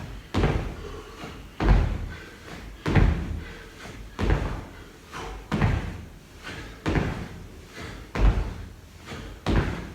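Landing thuds from squat jumps during a boxing plyometrics workout, about eight heavy thumps at an even pace of roughly one every one and a half seconds, close and solid, with no talking.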